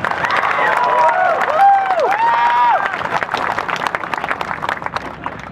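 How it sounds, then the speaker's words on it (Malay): Applause and cheering from a crowd at a political campaign rally in Shah Alam, loud clapping with shouts and whistles, while a voice on a loudspeaker talks over the crowd. "bagi tepukan gemuruh sekali lagi"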